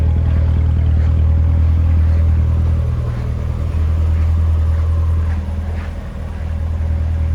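A supercharged 650 hp 2016 Chevrolet Corvette Z06 with Z07 package, exhaust dampers open, gives a steady loud deep rumble with a slight dip in the engine note partway through and again near the end.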